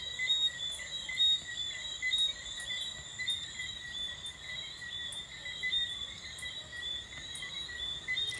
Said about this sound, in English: You can hear the crickets and everything in the background.